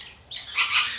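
Pet conures squawk in a short, shrill burst, two harsh rising calls close by within about a second.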